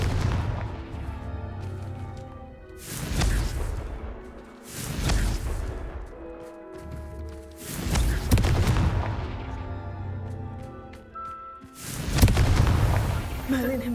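Confringo fire spells in Hogwarts Legacy burst in a series of about five heavy, rumbling explosions spaced a couple of seconds apart, each swelling and fading, with quieter game ambience between them.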